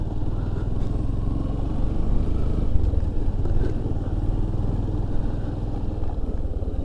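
A motorcycle engine drones steadily at low revs as the bike is ridden along a narrow, thorny vine path toward a hidden waterfall, close and continuous with faint rattles.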